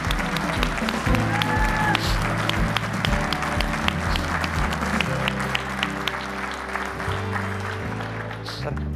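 Standing studio audience on a quiz show applauds volunteer firefighters, a continuous wash of clapping over music and studio noise, with brief sharp accents and voices mixed in.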